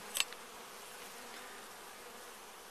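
Honeybees buzz in a faint, steady drone during a beehive inspection, with a brief sharp knock near the start.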